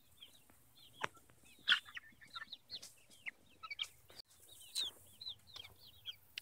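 Chickens cluck and murmur close by in a scattered series of short, soft calls, with a few sharper squawks and light pecking taps.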